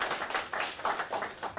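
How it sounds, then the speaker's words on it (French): Brief scattered clapping from an audience at a Malian network launch ceremony, a handful of hands tapping in uneven bursts at moderate distance, fairly quiet, with no voices over it. "Je vous demande d'applaudir aussi Lassana Niakate, qui est notre secrétaire à l'organisation."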